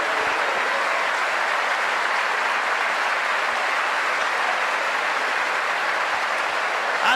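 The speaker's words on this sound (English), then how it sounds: "They haven't stood up today, but they've given them a warm round of applause" Warm round of applause from a seated crowd at a county minor hurling final, a dense, even clapping that fills the whole stretch at steady loudness.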